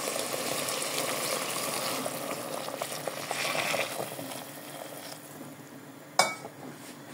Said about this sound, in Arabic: وهنا بعد ما حطيت الماء يغلي وحطيت له الزيت والملح نضيف الروز.